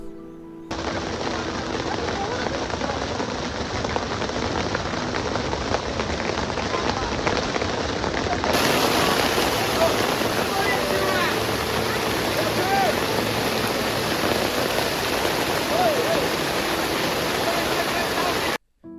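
Heavy rain pours down on a motorcycle ride near Daocheng, China, a loud, continuous roar of water and wind that grows fuller and harsher about halfway through and stays dense to the end.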